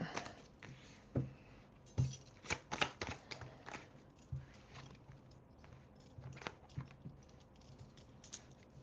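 Tarot cards shuffled by hand close up, soft irregular riffling and tapping bursts at low volume with no talking.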